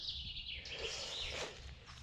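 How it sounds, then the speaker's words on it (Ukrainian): Birds singing in a forest in the Carpathian lowlands on a sunny morning, continuous high chirping and trilling calls, fairly faint and distant over a low rumble of background noise, no voices. "О, як пташки співають."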